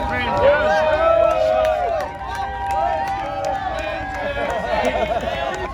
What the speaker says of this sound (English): This footage right here is of people cheering Brandon Jones as he's leaving Martinsville, coming out of the tunnel.